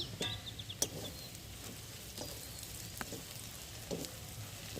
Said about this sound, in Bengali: পেঁয়াজ কুচি দেওয়ার পরে আমি হালকা নেড়ে চেড়ে ভেজে নেব